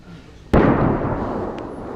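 A single sharp, heavy boom from an artillery gunshot near Vovchansk in Ukraine's Kharkiv region, sudden and loud, followed by a long rumbling roll that fades slowly over a second or more.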